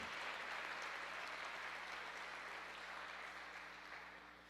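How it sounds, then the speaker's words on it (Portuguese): A church congregation applauding during a worship service, a continuous wash of clapping from a large room, heard at a moderate distance and fading slightly toward the end. "Você pode aplaudir ao Senhor, querido?"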